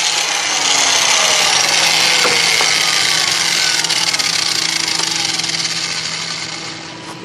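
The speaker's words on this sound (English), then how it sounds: "Now I got to grind this down so I can pop the bolt out" A power tool grinds down a rear strut bolt on a 2005 Toyota Highlander with a loud, sustained high-pitched whine and harsh rasp. The sound stays close and steady for several seconds, then eases off slightly at the end.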